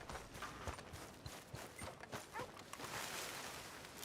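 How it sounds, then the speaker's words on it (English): Horse hooves clip-clop at a steady walking rhythm in Red Dead Redemption 2, moderately close and fairly faint, with no talk over them. "Tem um cavalo."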